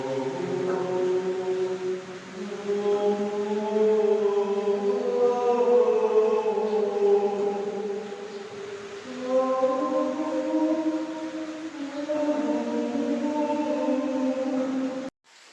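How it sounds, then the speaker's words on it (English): A sustained, humming voice-like tone rings and echoes inside a road tunnel in Japan on a rainy walk, with layered reverberant harmonics that swell and shift steadily for about fifteen seconds before cutting off abruptly. "God, I love acoustics in a tunnel."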